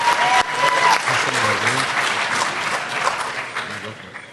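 Audience at the DEF CON 22 security conference bursting into sustained applause and clapping to welcome speakers, a dense crowd sound that fades after a few seconds.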